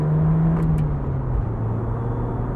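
A 1996 BMW Z3 roadster with a 1.9-litre engine and five-speed gearbox rolls over a bumpy road, giving a steady close engine and road rumble with a low droning hum.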